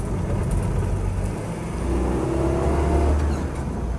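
Land Rover Series 2a 88-inch hardtop pulling away in first gear, a steady low engine drone with rising revs heard from inside the cab, continuous and fairly loud.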